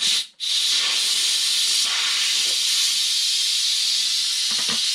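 A loud, continuous jet of steam hisses from a vent, briefly cutting out near the start before roaring on steadily, with faint clinks underneath.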